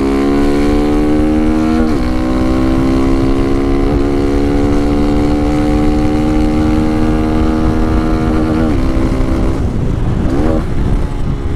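A Honda Titan motorcycle engine drones loudly and continuously at speed near 100 km/h, its pitch falling and then jumping with several downshifts as revs come off.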